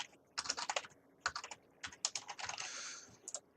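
Typing on a computer keyboard, with quick bursts of clicking keystrokes separated by short pauses and one longer continuous run, close and fairly quiet.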